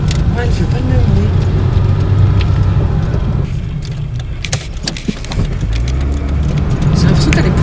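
A car fitted with a Pantone anti-pollution kit runs steadily, its engine a low continuous rumble heard from inside at close range, a brief dip in the middle, with a voice talking over it.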